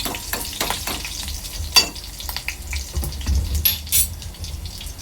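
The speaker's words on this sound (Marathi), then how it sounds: "इथे लसूण आणि मिरची थोडी तेलात परतून घ्यायची आहे" Garlic and chili sautéing in oil for a Marathi onion curry, a steady close sizzle with a few stirring scrapes and clinks of a spoon against the pan.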